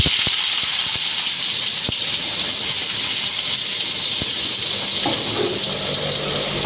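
Chopped large onions hit hot sunflower oil already popping with fennel seeds for chicken chukka, a loud, steady close-up sizzle with a few sharp crackles.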